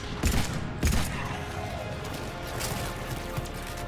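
Rapid pistol gunfire in the Mass Effect 3 Legendary Edition video game, several close sharp shots early on over a dense, busy layer of battle noise, with no clear speech.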